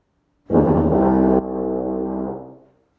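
A tuba plays a single long note with the first and third valves pressed. It starts with a loud, buzzy attack, then drops to a softer, steady tone that fades out after about two seconds. It is heard alone and close.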